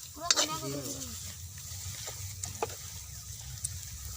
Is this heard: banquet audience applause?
no